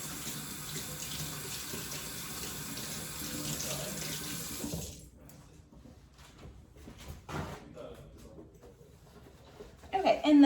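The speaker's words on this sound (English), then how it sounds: "Hand washing." Running tap water pours steadily into a sink as hands are washed, a continuous rushing wash for about five seconds, then softer water sounds and faint clatter follow in a home kitchen.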